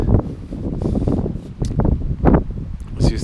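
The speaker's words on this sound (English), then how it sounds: "it's a little bit windy." Gusty wind sweeps across a flower-covered hillside during an uphill walk, buffeting the microphone in irregular bursts of low rumble with brief rustling surges, close and fairly loud throughout.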